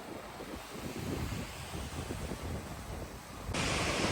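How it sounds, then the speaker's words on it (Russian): Strong wind roars over a stormy Black Sea surf at an Odesa beach, a dense, continuous rush of broadband noise that swells louder near the end, with no voices. "шторм, сильный ветер"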